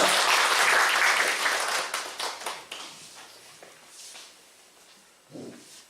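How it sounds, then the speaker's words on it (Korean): Loud applause from a church congregation, strong at first and then thinning into scattered claps that fade out, with a few soft thumps near the end. "박수로 환영하겠습니다"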